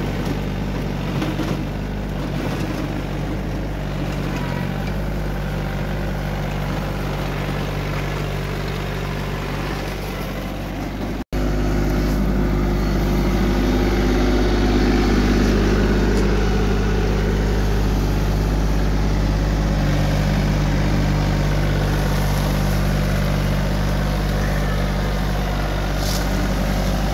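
Swaraj Target 630 tractor driving a rotary tiller through a heavy banana field, a steady low diesel drone with churning mechanical grind, loud and continuous, briefly interrupted by a cut before resuming slightly fuller.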